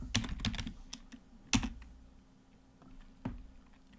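Typing on a computer keyboard while working in Cloud Shell, a few quick clusters of key clicks with pauses between them, close and fairly quiet, with no talking.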